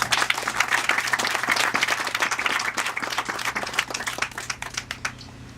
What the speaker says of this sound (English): Let's give a round of applause for Mayor Copeland.